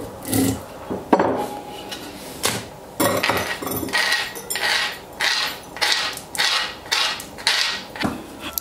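About six cloves being crushed into pieces in a small vessel, a close series of repeated pounding and grinding strikes in an uneven rhythm, loud and with no talking.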